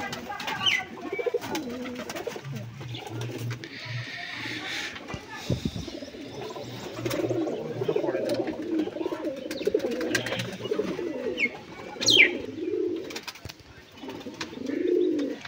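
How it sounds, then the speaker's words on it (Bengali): Pigeons coo in low, repeated throaty calls through a backyard pigeon collection, with someone talking over them and occasional light chirps and flutters. "খুব সুন্দর পায়রা দুটো।"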